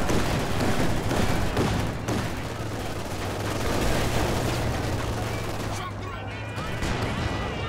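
Rapid gunfire crackles through a Company of Heroes 2 multiplayer battle, bursts rattling on and off amid steady explosions and battlefield noise, with a voice commentating over the din.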